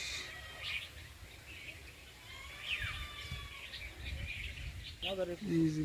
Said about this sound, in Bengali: বুলবুলি পাখি রস খাচ্ছে